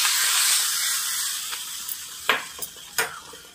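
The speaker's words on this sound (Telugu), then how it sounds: "జీడిపప్పును కిస్మిస్ నేతిలో వేయించుకొని ఇలా వేసుకోండి" Cashews and raisins fried in ghee are poured into moong dal payasam, a steady sizzling hiss followed by a few soft clinks and stirring taps near the end.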